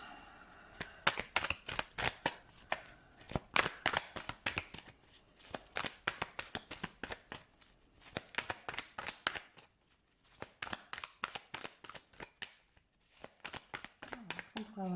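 Tarot cards being shuffled by hand, a rapid run of crisp riffling flutters and slaps repeating in bursts with short pauses, close and clear, no talking over it.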